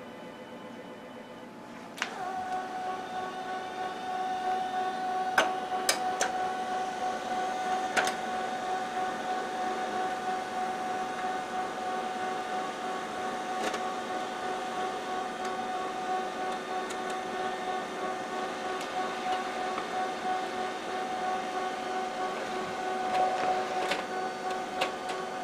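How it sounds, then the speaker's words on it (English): An HP LaserJet 5P laser printer runs steadily for about 25 seconds, a constant mechanical whir and hum with a few sharp clicks near the start, heard close and alone. "You can press this button and it will give you the specs of the printer"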